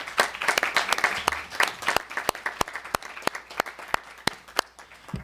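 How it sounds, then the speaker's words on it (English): Applause rises from the audience at an Asian American commemoration event to honour Diane Vu: a moderately sized crowd claps, with sharp individual claps standing out above the thinning patter as it tapers off. "So let's give a round of applause to her."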